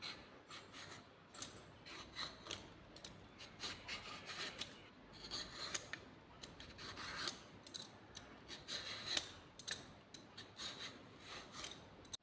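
Raw plantains have their skin scraped off, a quiet, continuous rasping and rubbing in repeated strokes, close up with no speech.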